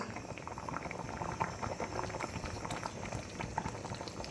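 Pabda fish curry with potato and ridge gourd bubbles in a pot, a close, steady boiling sizzle and patter of thin broth with small pops, no voices.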